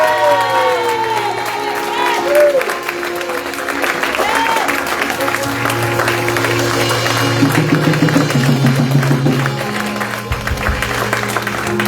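A church congregation at a teaching meeting cheers and shouts in acclaim of the Lord, a loud mass of crowd voices mixed with clapping and sustained tonal sound.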